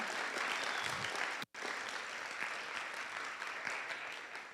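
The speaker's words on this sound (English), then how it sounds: "can we give another round of applause for our lovely guest speaker?" Audience applause at a high school Pride Month assembly, steady dense clapping that fills the hall, broken by one brief silent gap before continuing at even strength.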